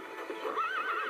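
A horse in a zoo video game gives a single clear, wavering whinny lasting about a second, close and alone with no talk.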